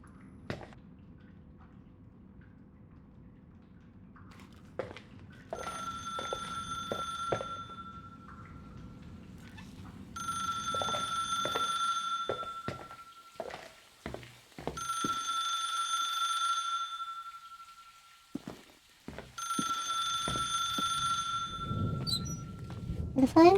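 A telephone rings in the video game The Case of Rachel Foster, with four repeated electronic ring bursts, faint and even, over quiet room ambience and scattered soft clicks.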